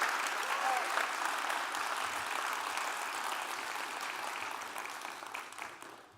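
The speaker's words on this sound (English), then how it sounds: "Please give another round of applause for Augustine." Audience at a TEDx event applauding, dense sustained clapping from a large crowd that slowly fades out at the end.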